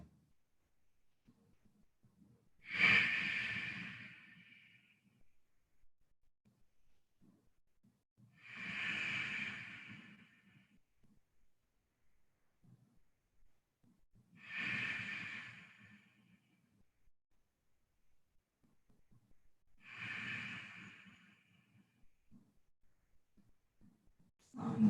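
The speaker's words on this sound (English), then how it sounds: "Focus on your ujjayi breathing. Make a sound as the breath passes by the back of your throat." Slow ujjayi yoga breaths drawn through the back of the throat, four soft, hissing, ocean-like exhalations spaced about six seconds apart, with near silence between them.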